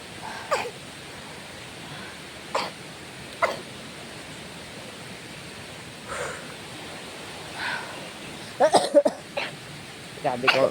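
Several short, dry coughs scattered over a quiet room hiss, spaced a few seconds apart, ending in a quicker cluster of coughs.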